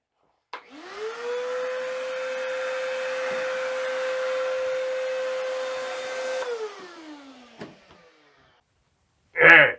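A vacuum cleaner drones steadily in a woodworking shop during a wooden dinghy build, running for about six seconds before winding down. A sharp knock follows, then a loud thump at the end. No one speaks.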